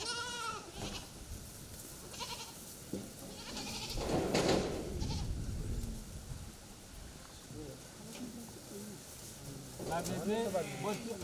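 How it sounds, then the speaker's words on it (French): Goats bleating at a small livestock farm raising small stock, several calls rising at moments over steady outdoor background, with people talking nearby in between. "l'élevage des menus bétail"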